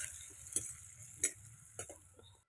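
Onions stirred with mustard seeds and cumin in hot oil for a prawn and raw banana thokku, a few sharp spoon scrapes against the pan over a faint, low sizzle, quiet and close with no talk.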